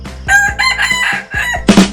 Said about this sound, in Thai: ผมสั่งให้ขันนะผม